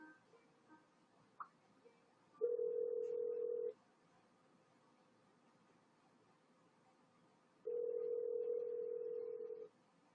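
A ringback tone plays while a phone number is being called: two long, steady beeps separated by several seconds of quiet, faint and with no voices.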